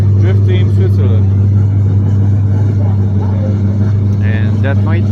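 An LS-engined drift car idles and blips its throttle at the Nurburgring, a deep steady engine drone dominating throughout with a voice talking over it.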